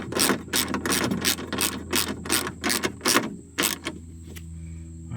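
Tightening bolts on a classic Mercedes window regulator with a ratchet: a quick run of about a dozen sharp ratcheting clicks in short bursts, close up, ending in a quieter mechanical clunk.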